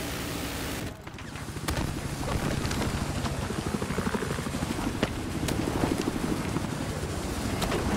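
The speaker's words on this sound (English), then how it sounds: "here comes Wreck-It Ralph in the PHR chopper" A helicopter in a video game, the PHR chopper in a 12v12 match, roars steadily throughout, a dense rotor-and-wind rumble with faint gunfire crackling in the background.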